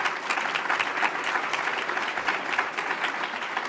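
Sustained audience applause for event organizers, steady and dense clapping from a crowd throughout, fairly loud with no talking over it.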